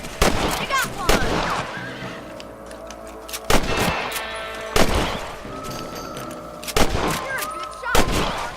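Several loud gunshots crack out in Red Dead Redemption while rabbits are hunted, spaced a second or more apart with echoing tails, a horse nearby in the background.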